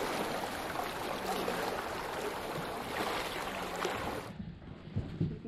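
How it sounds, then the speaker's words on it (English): Water laps and sloshes steadily around a small boat on an underground lake in the Diros Caves, Greece, a soft continuous wash that suddenly drops away near the end, followed by faint knocks. "I'm in a boat on an underground lake."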